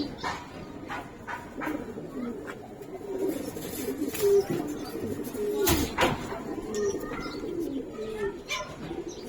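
Giribaz pigeons, an old pigeon breed, coo softly in low repeated burbles amid a busy background with scattered bird calls and brief thumps; no speech is heard.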